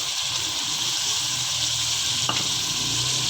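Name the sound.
chicken karahi frying in a pan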